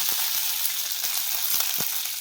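Hot oil sizzles and crackles steadily as chillies and curry leaves are tempered for coconut rice, with small sharp pops and spatters scattered through the hiss, close by.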